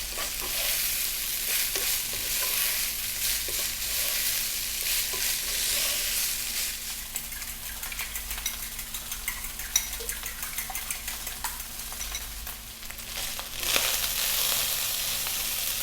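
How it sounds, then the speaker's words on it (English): Rice fries over high heat in a hot pan, a steady loud sizzle running throughout, with the scrape and clink of a utensil stirring and tossing the grains repeatedly. "What we want to do is stay on a high heat, and we really need to fry the rice."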